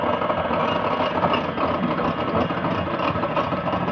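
An electric whisk whirs steadily as it whips coffee and water for dalgona coffee, giving a constant loud motor hum with no pauses and no voices.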